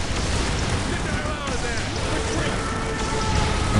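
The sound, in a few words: grenade explosions in the video game Dawn of War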